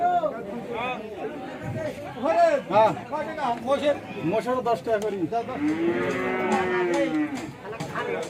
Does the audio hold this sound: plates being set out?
no